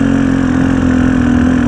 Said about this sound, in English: Lugging the engine really low, it's in second gear, and stays up,